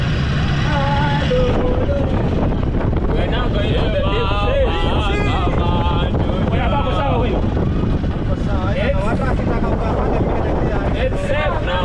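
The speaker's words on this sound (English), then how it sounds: "The engine has started. That is the engine." Boat engine running steadily out on the Indian Ocean, a continuous loud droning rumble mixed with wind buffeting the microphone, while several people talk and call out over it.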